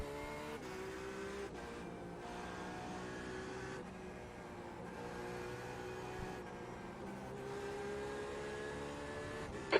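A Porsche 911 GT3 R race car in iRacing drives with a steady, sustained engine drone and shifting gear tones, loud and continuous throughout with no talking.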